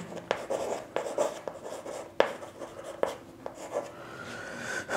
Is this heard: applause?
no